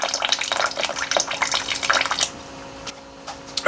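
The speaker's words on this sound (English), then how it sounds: "So I'm just going to add some more hot water" Hot water poured into a container to loosen crystallized honey, a steady close splashing and trickling pour that thins out near the end into faint drips and small splashes.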